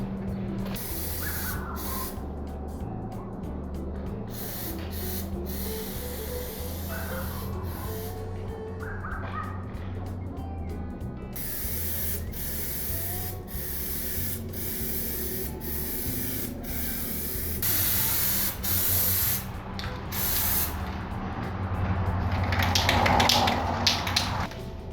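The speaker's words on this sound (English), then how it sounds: "basically what I'm using is Rust-Oleum undercoating." Rust-Oleum undercoating is sprayed from an aerosol can onto a pop-up camper floor in repeated hissing bursts with brief gaps, steady and close, growing louder and rougher toward the end.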